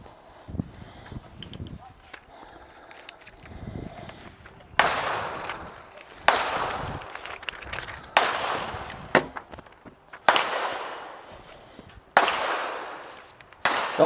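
Gunshots from a nearby 50-metre shooting range, a series of sharp reports about every two seconds, each with a short decaying tail, heard under ongoing talk.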